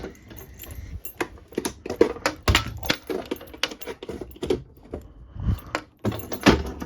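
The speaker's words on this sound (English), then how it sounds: "We're going to take my keys with me." Keys jangle in repeated bursts, close and clear, during a security system test and exit sign inspection, with clinks and rattles over about seven seconds.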